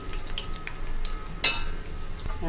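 Onions frying in oil for chicken dum biryani, a low, quiet sizzle with one sharp utensil clink partway through.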